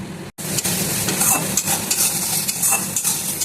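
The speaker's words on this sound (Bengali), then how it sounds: "আমি এবার মশলাটাকে পুরো কষিয়ে নেবো তেলের মধ্যে" Spice paste for a spicy boal fish curry fries hard in oil, sizzling loudly and steadily after a momentary silent gap at the start, with repeated scraping stirs against the pan.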